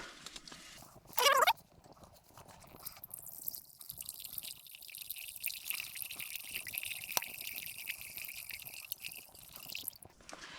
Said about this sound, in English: let's fill the bowl with some water